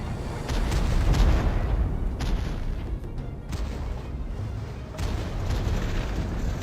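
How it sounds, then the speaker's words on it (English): Ferdinand tank destroyer firing on Patton tanks in a Total War 1942 battle, heard as a dense, loud, continuous rumble of heavy gunfire and booming blasts with no clear gaps between shots. "this sneaky Ferdinand is shooting those tanks from behind"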